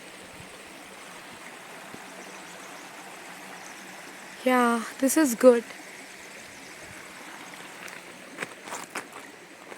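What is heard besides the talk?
flowing water stream on a mountain hiking trail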